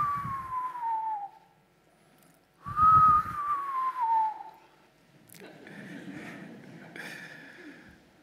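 Two long, descending whistles sound in turn, a person imitating a frog's call, separated by a pause, followed by faint rustling and background noise.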